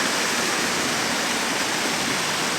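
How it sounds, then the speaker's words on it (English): Water pouring over an upper waterfall along a walking route, running low after little rain, a steady, fairly close broadband rushing hiss without breaks or voices. "You walk through there and you can come up to one of the upper falls."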